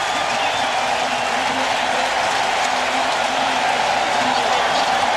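A football stadium crowd at a 1994 NFL game in New England, Raiders at Patriots, roars in a steady, dense wash of cheering that holds at a constant level throughout.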